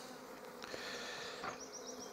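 Honey bees at an open hive hum in a steady, soft insect drone, close but quiet, with a few faint rustling clicks and no voices.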